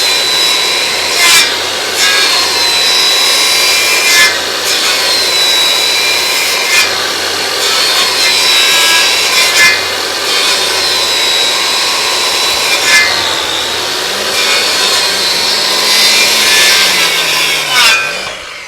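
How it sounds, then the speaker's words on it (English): Hand chisel cutting out a dovetail joint in wood, a loud, close run of scraping, rasping strokes with sharp knocks and rubbing, continuous and alone. "Let's see how this little guy chisels out."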